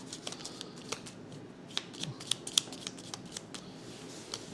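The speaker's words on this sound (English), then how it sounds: "shuffle of our exploration cards." A deck of exploration cards for the board game Aeon Trespass Odyssey being shuffled by hand, close up, with crisp repeated riffles and snaps in quick, uneven bursts.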